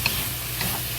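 Sliced pork and cucumber stir-frying in a hot pan, a brief burst of continuous sizzling with a couple of light clicks from a utensil against the pan, close and fairly loud, without speech.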